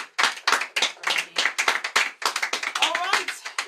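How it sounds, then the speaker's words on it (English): Hands clapping in an uneven, fairly close rhythm of separate claps at an oratory competition, with a voice rising over the later part. "put your hands together for Igor Fletcher"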